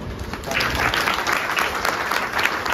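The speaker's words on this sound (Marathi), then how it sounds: "टाळ्या वाजवा, लहान मुलांना" Villagers clap their hands together at a Dahi Handi celebration in Taloja village, producing a sustained, close crowd applause that swells after a brief start, with a few voices mixed into the clapping.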